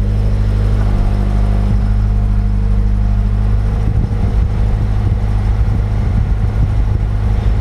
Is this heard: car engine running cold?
yes